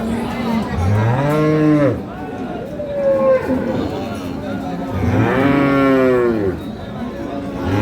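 An improved-breed dairy cow at a busy cattle market lets out two long, loud moos a few seconds apart, with crowd chatter and people talking underneath.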